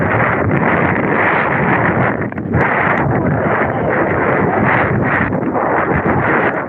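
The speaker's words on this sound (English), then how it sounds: "Man, you can see that wind. Look, hear it? Wow, man, there's a big gust of wind right there." Strong wind roars steadily across the microphone, a loud continuous buffeting rush with slight surges and dips.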